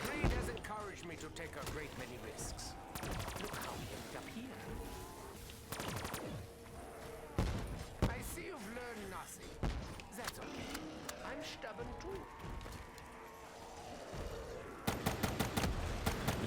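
Gunfire in Black Ops 3 Zombies aimed at a tank zombie: repeated bursts of sharp shots, some rapid automatic strings, scattered over more than fifteen seconds amid game noise, with a voice talking through much of it.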